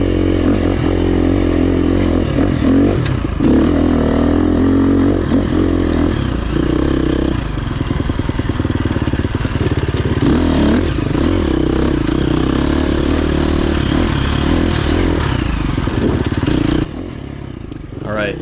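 A 350 dirt bike climbing a trail in second gear: a loud, close engine drone with rising and falling revs, clatter and scrape from the rough ground, and wind noise throughout.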